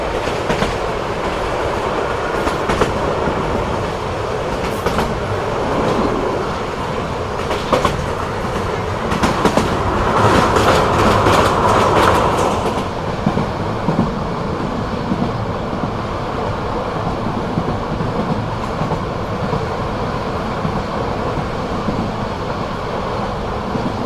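Sonar Bangla Express passenger train on the Dhaka to Chittagong run, heard from aboard: a loud continuous rumble with rhythmic clickety-clack of wheels on rail joints and a brief swell of rattling midway, no talk.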